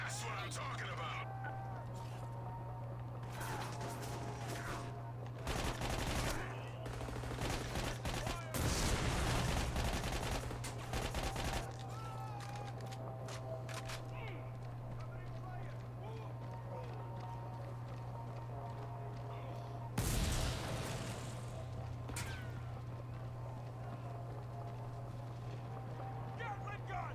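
Gatling gun and other gunfire in Army of Two The 40th Day: scattered bursts of heavy, rapid shots break through a steady mechanical hum, with a long rattling volley near the middle and another later, while people talk throughout.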